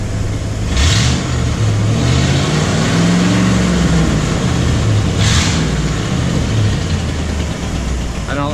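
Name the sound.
Ford Bronco engine running after a cold start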